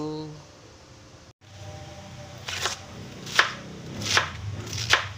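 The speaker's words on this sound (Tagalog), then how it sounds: "hiwain natin ang ating repolyo" Cabbage being chopped with a knife on a cutting board, four crisp sharp chops in an uneven rhythm, close up, with someone talking between them.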